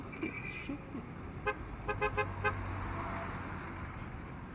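A car's dual horn honks several short bursts in quick succession, moderately loud against low engine and road rumble.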